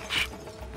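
Rifle magazine swap in the shooter Rainbow Six Vegas, a brief close metallic click and rattle lasting under a second.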